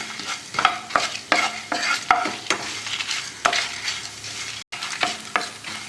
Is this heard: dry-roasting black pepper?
yes